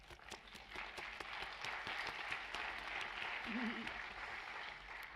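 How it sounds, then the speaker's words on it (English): Audience applause fills a plenary conference hall, a steady dense clapping that holds at moderate loudness throughout, with a brief murmur of voices partway through. "Thank you for clapping, I'll tell him."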